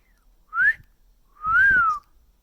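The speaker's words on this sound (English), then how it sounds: "this is me whistling this whole time" Someone whistles near a parrot in Hilton Head Island, SC, giving a brief rising note and then a sustained rise-and-fall tone, both loud and close with quiet gaps around them.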